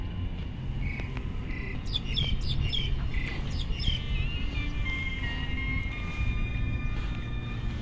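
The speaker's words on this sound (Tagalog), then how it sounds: "Ang daming mga ibon." Many birds chirp and call at the Tamsui seaside in Taiwan, short bright tweets scattered over the first half, then thinner calls, all above a steady low rumble of background noise.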